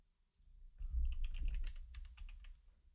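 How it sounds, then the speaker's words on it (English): Muffled keystrokes from someone typing on a computer keyboard while wearing gloves, a quick close run of soft clicks and taps that rises, holds for a couple of seconds and trails off, with no talking. "Feels strange typing in these gloves."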